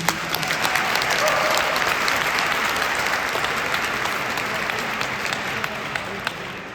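An audience at a Ramadan iftar gathering in Guildhall, London, gives a dense, even round of applause that holds steady for several seconds before easing slightly, with no distinct speech over it.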